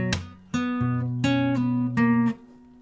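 Fingerstyle acoustic guitar plays a short passage from a song, with a handful of plucked notes and chords ringing clearly and closely, one after another, then fading out.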